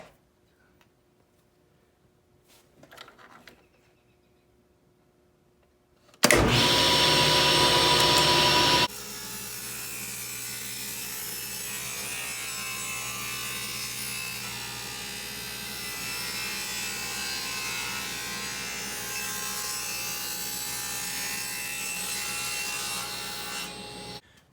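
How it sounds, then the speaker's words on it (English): A SawStop table saw cutting treated lumber outdoors: after a few quiet seconds and faint handling, the saw starts loud with a sharp burst of blade cutting, then settles into a steady sustained whine and rumble that runs to the end. "I have a saw stop table saw. So this is treated lumber."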